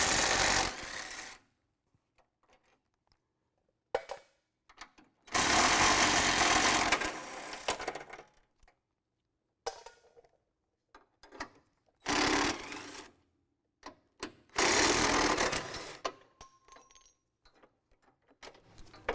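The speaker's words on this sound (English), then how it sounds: "We're going to remove those bolts on this side" A power tool whirs in several loud bursts, removing 18mm bumper bolts on a 2017 Ford F-250 Super Duty, with quiet metallic clinks of sockets and bolts in the pauses between runs.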